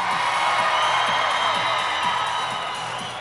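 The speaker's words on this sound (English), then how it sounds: "give me a big round of applause!" Audience at a costume contest bursting into loud, sustained applause and cheering with whoops, a dense crowd roar that holds steady for a few seconds before easing slightly.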